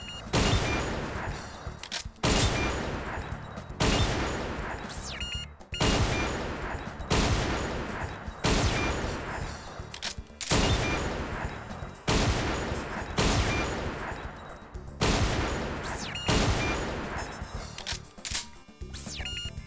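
Repeated bursts of gunfire from the arcade sniper shooting game Silent Scope, played on a PS2 emulator; loud shots fire in a steady rhythm every two seconds or so, each with a sharp attack and short decaying tail, no talking.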